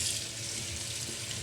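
Running tap water pours steadily into a sink while small fish, ichha shrimp and sasinda, are rinsed clean, a continuous close hiss and splash with no speech.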